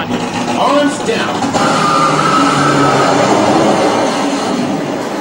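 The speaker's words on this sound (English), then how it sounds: "On a signal, the oil is released and runs through 32 hydraulic motors that creates a 0 to 120 mile an hour launch." Cedar Point's Top Thrill Dragster roller coaster firing its hydraulic launch, driven by 32 hydraulic motors to 120 mph: a loud, sustained rushing roar with rising tones, steady throughout and up close.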